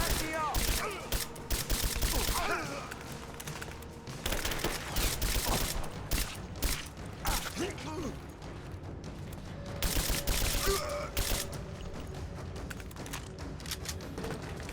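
Assault rifle fire in the video game Rise of the Tomb Raider, repeated bursts of rapid shots in several clusters, loud and near, with quieter gaps and faint game voices between.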